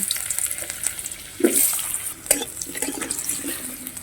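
Lentil bori and potatoes frying in a pan for a pumpkin-leaf curry, giving a steady soft sizzle with a couple of louder bursts and stirring scrapes partway through, close by and without talk.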